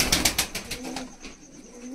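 A Pamoj pigeon beats its wings in a quick run of loud flaps, then gives a soft low coo as the flapping fades, heard close up.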